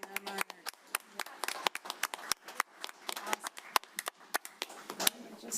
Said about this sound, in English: I think we need to clap for being on Monarch.